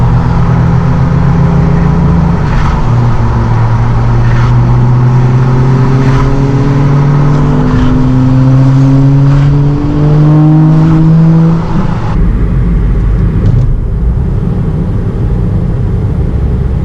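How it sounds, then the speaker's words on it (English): Suzuki Swift engine accelerating hard at a Tokyo night street meet, loud and close, with rising gear-by-gear revving sweeps over several seconds, then easing off near the end. "Pretty much having to floor it everywhere in the Swift to keep up with the Laurels, the Chasers, the RX-7, the Civics"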